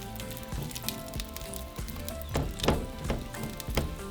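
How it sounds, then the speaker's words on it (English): Longaniza chorizo sizzles in hot oil in a pan, a steady crackling hiss broken by irregular pops and a few knocks as the meat is broken apart. "once the oil's hot, we're going to throw in our longaniza or chorizo"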